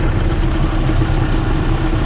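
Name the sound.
bus engine idling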